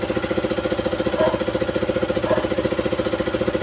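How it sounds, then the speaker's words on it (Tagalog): A KTM Duke 200 motorcycle exhaust with a leaking gasket idles with a rapid, regular metallic knocking pulse, steady and close, with no voices. "Parang ganyan na yung tunog ng kanyang tambutso, parang may bakal na bumabangga."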